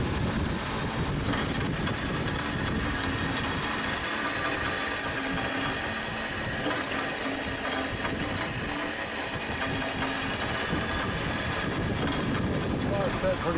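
A bandsaw cuts slowly through a block of 304 stainless steel in a workshop, giving a steady, continuous broadband hiss and grinding drone that holds level for the whole stretch, with no talk over it.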